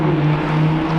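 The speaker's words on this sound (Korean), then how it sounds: "람보르기니 직원들은 점심 때 우라칸을 타고 가는군요." A Lamborghini Huracán test car outside the Lamborghini factory in Italy gives off a loud, steady low engine drone that holds even throughout, without any talking.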